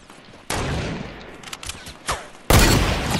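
Sniper gunfire in a video game: a sharp, loud shot bursts in, then softer crackling and smaller pops follow, and a second heavy blast erupts near the end, all close and with no talking over it.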